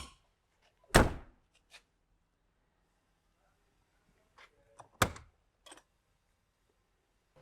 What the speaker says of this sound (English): And now when I close the door, the steps will stay extended.